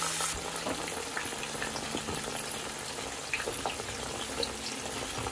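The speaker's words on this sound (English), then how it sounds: "So I'll add in the pieces now." Continuous crackling sizzle of boneless chicken pieces frying in hot oil, dense popping and spitting throughout, steady and fairly close.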